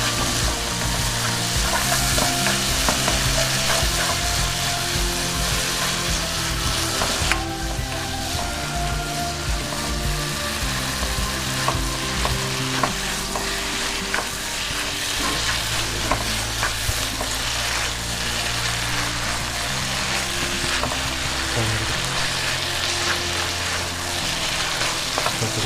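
Noodle rice is stirred and fried in a pan, with continuous sizzling and repeated scraping of a utensil through the food over a long stretch, loud and close with no talking.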